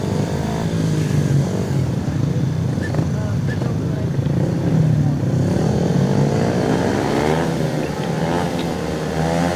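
Speedway motorcycles roaring at a Championship meeting as riders line up for a race restart, a loud continuous engine blare with rising revs, and a commentator talking over it.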